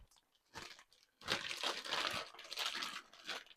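A plastic zip bag holding pork kebab marinade crinkles and crunches in close, uneven bursts as it is squeezed and handled, with a short quiet gap near the start and busier handling for the rest.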